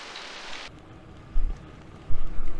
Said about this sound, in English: we had a little bit of a rainy situation there for like an hour almost